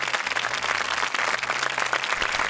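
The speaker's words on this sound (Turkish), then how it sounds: "Cleo ve Aydın'a kocaman bir alkış istiyorum." Loud, steady audience applause fills a Turkish television game-show studio, continuous dense clapping throughout with a faint low hum underneath.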